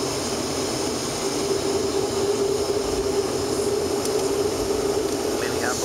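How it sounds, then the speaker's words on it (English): A Continental Airlines Boeing 737-500 takes off from Minneapolis–St. Paul, heard from inside the cabin as a steady, loud engine roar and rumble with a sustained whine held throughout. "Boeing takeoff."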